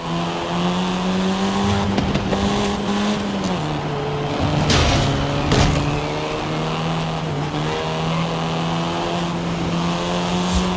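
A Volkswagen Golf R, seventh generation, driven in Forza Horizon 5: a loud, steady engine drone with gear changes and revving surges, tire noise and a brief squeal mid-run, no talking.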